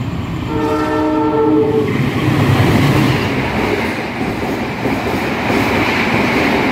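A train horn sounds briefly at the start as a loud passenger train rumbles past, its steady roar filling the rest of the clip.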